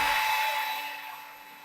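A steady high whirring spin from an electric drill driving a digital speedometer test, strongest at first and then gradually fading as it slows.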